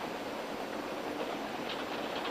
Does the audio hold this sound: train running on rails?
yes